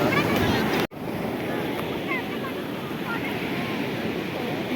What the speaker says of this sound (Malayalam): തിരമാലകളുടെ ശക്തി കാണണമെങ്കിൽ കണ്ടു